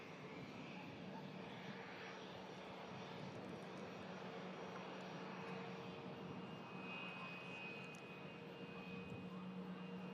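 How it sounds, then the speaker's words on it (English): Embraer Legacy 600 business jet arriving at Manchester Airport during a storm, a faint, steady, distant engine roar with a thin whine held throughout. "BizJet in shot, coming into shot just in front of the 350 again here, is in fact an Embraer Legacy 600"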